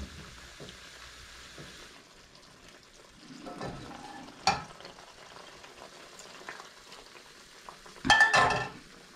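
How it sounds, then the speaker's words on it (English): Mushroom risotto simmers gently in a pan while being stirred, with a faint low bubbling under two brief louder bursts of spoon scraping and pan clatter. "it's a lot more gently simmering when we're stirring"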